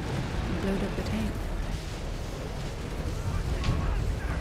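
Tank cannon fire and battle din from a Company of Heroes 3 video game trailer: a dense, steady wall of close, loud rumbling booms, with a sharper blast near the end and voices mixed in.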